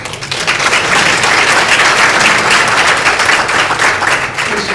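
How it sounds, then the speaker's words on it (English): A luncheon audience at a political convention bursts into loud, dense applause, many hands clapping continuously for several seconds before easing slightly. "So please give her a round of applause."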